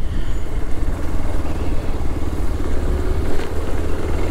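A Hero XPulse 200 4V motorcycle rides steadily at dawn. Its engine drones loud and close with a constant rumble and some wind noise, and nobody speaks.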